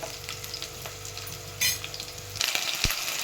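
Ginger paste frying and being stirred in a pan with green chillies for a mushroom curry: steady sizzle with scraping stir strokes, growing louder and brighter near the end, a sharp clink partway through, no talking.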